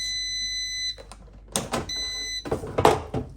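Two sets of high electronic beeps from an air fryer, each a short run of steady tones, separated by clattering and handling noises nearby.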